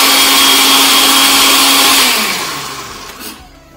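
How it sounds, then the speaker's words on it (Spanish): A countertop blender whirs loudly while blending a green detox juice for weight loss, a steady high motor whine that then winds down and cuts out, its pitch sliding lower as it stops. "Procedemos a licuar este maravilloso jugo por 1 minuto"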